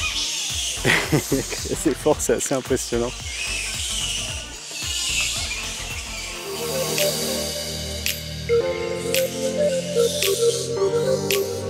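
A colony of bats roosting in trees on a small island in Thailand, a loud, dense chatter of shrill squeaks and rasping calls, with someone speaking over it partway through.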